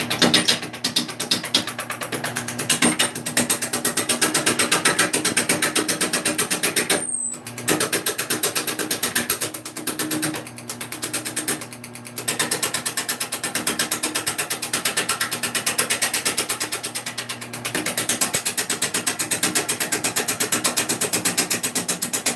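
A wood lathe spins a wooden bowl blank, giving a steady mechanical whir with a rhythmic ticking and rattling pulse, briefly interrupted by a few short pauses before resuming at an even level.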